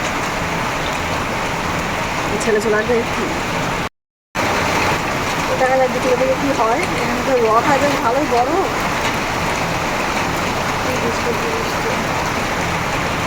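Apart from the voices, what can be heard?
rain falling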